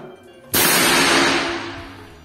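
A GK500 air rifle firing a slug pellet: one sharp, loud crack bursting out of quiet, then a broad hiss that fades over the next second.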